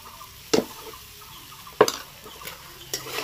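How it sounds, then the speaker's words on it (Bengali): Cooked rice stirred into chicken keema in a pan, a few scattered scrapes and clinks of a spoon against the pan at intervals, close and moderately loud. "এইবার সাথে সাথে ভাতটা মিশিয়ে দেবো"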